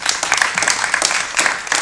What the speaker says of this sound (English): Let's give Ramel a round of applause.